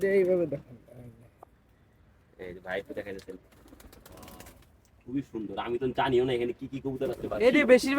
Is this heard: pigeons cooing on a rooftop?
yes